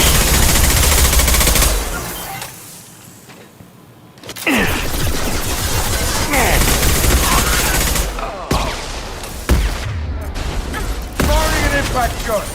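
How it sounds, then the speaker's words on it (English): Impact shot weapon fire in a Mass Effect 2 firefight: loud gunfire bursts and booming impacts in rapid, irregular succession, with a brief lull before the shooting resumes and continues in dense, crackling volleys. "Firing an impact shot!"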